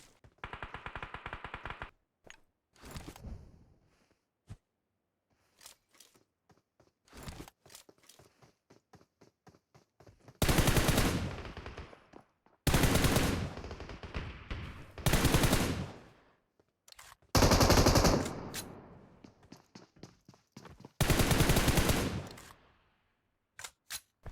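Bursts of automatic rifle fire from an M4 and other guns in a PUBG Mobile ranked match, several loud sustained volleys separated by pauses, with scattered sharper single shots and quieter distant pops earlier on.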